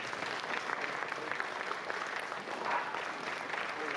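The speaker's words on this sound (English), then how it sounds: "please stand up and let us give you a round of applause for what you did" Audience applause honoring veterans at a museum event, a steady wash of clapping hands from a crowd, moderately distant and sustained throughout without a break.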